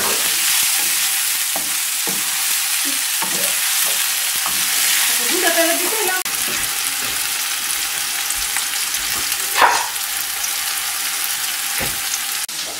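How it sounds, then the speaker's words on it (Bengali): Small mola fish fry in hot oil in a pan, a steady close sizzle with spatula scrapes and stirring clatter throughout, one sharper clank near the end; no voices. "আমি ভালো করে ভেজে নিব। মাছটাকে আমি নেড়ে নিচ্ছি।"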